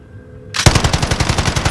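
Rapid automatic gunfire bursts out in a Call of Duty Warzone match, a loud sustained string of closely spaced shots following a moment of quieter background.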